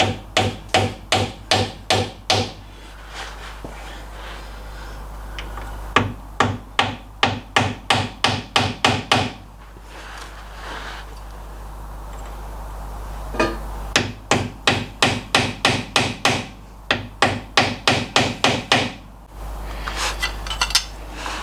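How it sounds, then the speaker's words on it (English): A fine chisel struck with a hammer against an MGB MK1 banjo rear axle, sharp metallic taps coming in rapid bursts of ten or so blows, separated by pauses with a low steady hum underneath. "I've got quite a fine chisel here. Just see if that's enough, just to let it pop up a bit."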